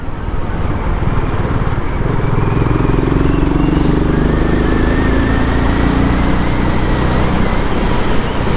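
A BSA Gold Star motorcycle's single-cylinder engine is wound up, its exhaust note loud and close, holding a steady throbbing drone while the pitch climbs and then eases over several seconds.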